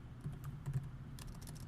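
Soft, quick keystrokes on a computer keyboard while coding a game in Unity, faint and steady clicking with a brief flurry near the end and no talk over it.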